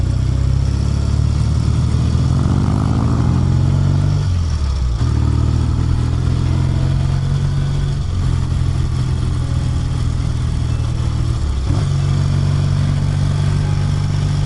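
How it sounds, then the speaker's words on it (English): A 1968 Triumph T100R Tiger Daytona motorcycle engine runs steadily while riding, a loud close low harmonic drone whose pitch shifts at gear changes around five, eight and twelve seconds, with no talking. "The engine feels so smooth in the upper RPM range."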